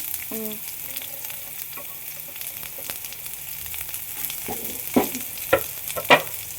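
Sliced onion and four cloves of garlic frying in a pan, starting as a steady, crackling sizzle that builds toward the end with three louder clattering stirs of the spatula.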